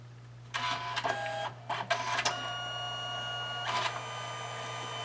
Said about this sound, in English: And so now we're going ahead and printing.